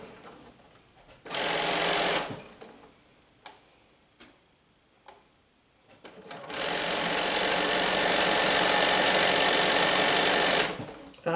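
A sewing machine stitches fabric with black thread along a 5/8 inch seam line, running in two loud steady bursts with a quieter pause between them where a voice speaks.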